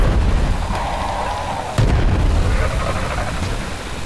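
Ship-mounted guns firing in Worlds Adrift, a loud booming artillery-like blast with a sharp report near the middle, set against a rumbling low background, no one talking.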